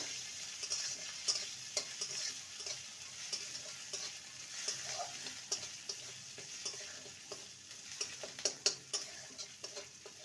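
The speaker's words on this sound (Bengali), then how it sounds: "আদা রসুনকে ভালো করে ভেজে নেব" Chopped ginger, garlic and green chilli fry in a pan with a soft, continuous sizzle, broken by repeated light clicks and scrapes of a spatula being stirred.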